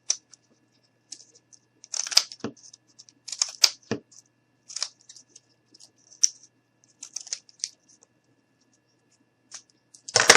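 Scissors cutting out a cardboard piece for a mini dirt bike model, with scattered crisp snips and crunches in irregular bursts, close up against a quiet background.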